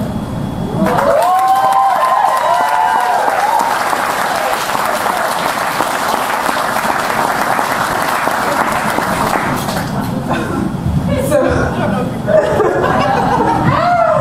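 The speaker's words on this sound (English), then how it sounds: "Clap out." A poetry event audience applauds warmly for several seconds, with scattered chuckles and cheers mixed in before the clapping fades.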